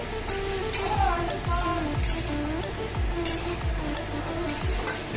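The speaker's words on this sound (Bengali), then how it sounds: "এই যে ইঁচড়গুলোকে সিদ্ধ করলাম, একটু হলুদ দিয়ে নুন দিয়ে প্রেশার কুকারে একটা সিটি দিয়ে হালকা একটু তেলে ভেজে নিচ্ছি" Boiled green jackfruit pieces fry lightly in a little oil, a soft steady sizzle broken by a regular rhythm of stirring scrapes and taps roughly every half second.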